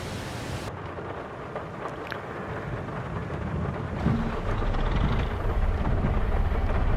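Steady rain in the farming game Farming Simulator 22, a continuous broadband hiss with a low rumbling undertone that swells slightly louder partway through, no voices.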